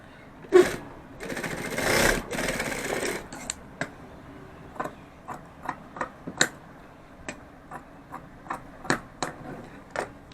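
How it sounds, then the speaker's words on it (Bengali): Fabric is sewn, giving a short burst of mechanical whirring and then a loose run of sharp, separate ticks and clicks at a moderate, quiet level, with no talk. "আর এটা যখন সেলাই করবে এরকম তেরা করে সেলাই করবে।"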